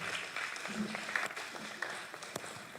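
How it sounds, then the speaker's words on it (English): Applause from an audience at a Ghana Football Association awards ceremony, steady and moderately distant, with scattered sharper claps over a continuous patter, no voices standing out. "Please do a big round of applause for him."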